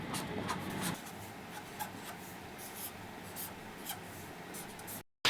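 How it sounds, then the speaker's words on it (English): A Sharpie marker draws on white paper close up, making continuous scratchy, squeaky strokes with short bursts of movement. The sound cuts to silence just before the end. "take a Sharpie marker and some white paper, and you draw"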